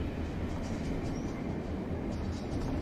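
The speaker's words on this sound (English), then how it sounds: "I hear a train, and it's loud as balls." A loud train rumbles steadily past in the survival video game This Land Is My Land, a continuous heavy roar with wheel clatter filling the whole stretch, close and unbroken, with no talk.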